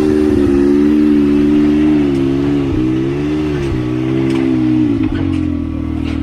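Turbocharged car fitted with an Evo exhaust accelerates hard from 0 to 60, a loud, steady engine drone rising and dipping through gear changes, close and continuous with no talking.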